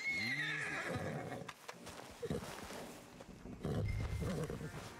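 Horse whinnying in Red Dead Redemption 2, a rising then falling neigh up front, followed by shuffling movement and heavier thuds near the end, all fairly loud.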